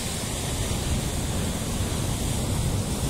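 Steady broadband rush of surf washing onto a shore at Avsallar, Turkey, continuous and fairly loud, with some wind buffeting the microphone and no voices.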